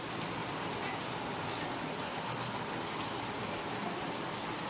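Steady, dense rain pours down with a constant broadband hiss, a continuous wash of drops with no pauses and no voices.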